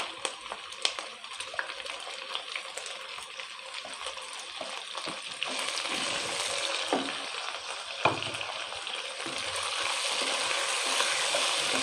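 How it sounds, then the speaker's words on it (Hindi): Chicken korma meat frying with tomatoes and green chillies, a steady sizzle with occasional stirring scrapes and clinks throughout, close and continuous. "इसको थोड़ा सा भून लेंगे।"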